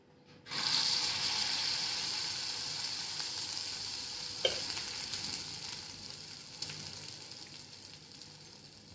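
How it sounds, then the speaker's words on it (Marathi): Bun dosa batter hits hot oil in a tadka pan on the gas, bursting into a loud, sudden sizzle that settles into a steady close frying hiss with a few small clicks and crackles. "आता याच्यामध्ये आपण बन डोसा टाकून घेऊया. तेल टाकूया."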